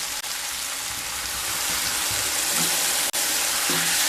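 Water added to a pan of frying potato and pea curry (aloo matar), giving a loud, continuous hissing sizzle that builds slightly and holds steady close up, with a couple of brief clicks and no speech.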